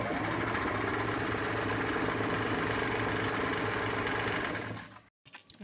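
A sewing machine runs at steady speed while stitching a palazzo, giving a loud, continuous mechanical whirr with a rapid needle rhythm for about five seconds. It then stops abruptly, leaving brief faint handling noise.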